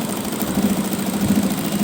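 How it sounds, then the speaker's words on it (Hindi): A sewing machine stitching a pintuck neck design, a close, steady motor hum and whir running continuously for about two seconds with no talking. "इस तरह से रखते हुए हम सिलाई लगा देंगे"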